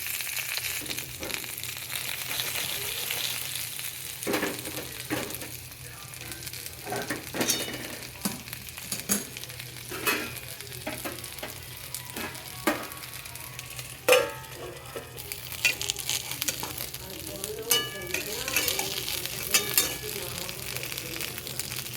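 Stuffed chillies and eggplant fry in a small amount of oil, giving a steady close sizzle broken by repeated scrapes and clinks of a spatula turning the pieces.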